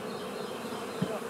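A honey bee colony hums in a steady, dense buzz at a club apiary during a spring hive split. The swarm sound is close and continuous, with no voices over it.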